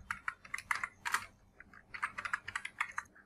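Quick bursts of key clicks from a computer keyboard as text is typed into an Excel field, close and clear with short pauses between words and no talking.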